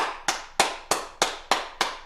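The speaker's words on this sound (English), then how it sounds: "let's clap it up" Seven sharp, evenly spaced hand claps, loud and close, following a rally leader's call at a community gathering, with a brief ringing decay after each clap and no talking between them.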